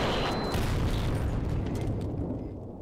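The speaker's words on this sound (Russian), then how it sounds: "от взрыва аж вынесло все" Bomb explosion in a video game: a loud, broadband roar that hits at once and rumbles on for nearly three seconds, slowly fading with crackling debris, no talk over it.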